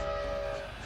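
A train passing a railroad crossing with gates down and lights flashing, a sustained tonal horn over a rumbling, noisy wash, heard from a distance.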